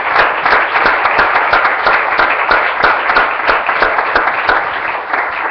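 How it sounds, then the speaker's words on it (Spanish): Loud, dense applause from a church congregation during a sermon, steady sustained clapping filling the room without pause throughout. "Démosle un aplauso."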